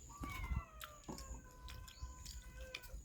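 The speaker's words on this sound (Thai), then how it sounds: "แมวนะ" A cat meows in several short, quiet calls mixed with faint bird chirps and small background knocks.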